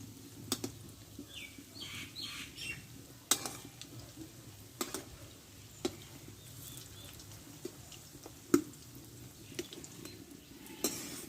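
Egg and onion fritters made with boiled egg and onion sizzle steadily in hot oil in a pan, with occasional sharp clicks and taps from turning them, and no talking.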